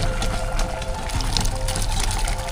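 Water drains and trickles steadily from boiled raw jackfruit pieces tipped into a strainer, a continuous close splashing pour with no voices.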